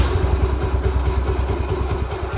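A scooter engine runs at idle, a loud, close, steady throbbing putter with rapid even pulses and no voices over it.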